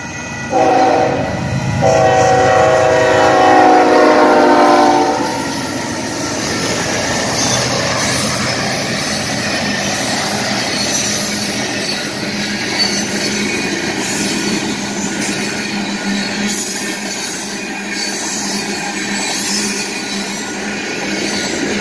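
Union Pacific and Canadian Pacific freight grain train passing in Aurora, Oregon, a loud horn blast at the start giving way to a steady roar of rolling cars, rumbling wheels and faint squeals, close and continuous.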